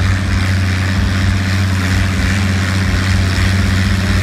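Six-cylinder Oliver pulling tractor in the ITPA 5500-pound Classic class at Cerro Gordo, its engine holding a loud, steady, close throbbing drone without a break.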